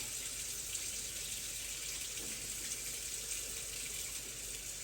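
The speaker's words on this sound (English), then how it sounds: "All right, I'm going with the tap water." Hot tap water, around 110 degrees, runs steadily from a kitchen faucet as a constant soft hiss with no pauses, fairly faint.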